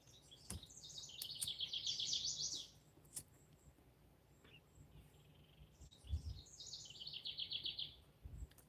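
Small birds chirp and tweet outdoors in the morning, two bright bursts of rapid high twittering separated by a quieter stretch, fairly close over a low background hum, with no talking.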